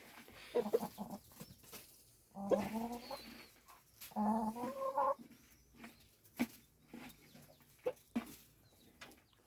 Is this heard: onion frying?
no